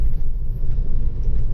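A Lotus Carlton estate engine idles with a deep, steady low rumble, loud and close, with no voices over it.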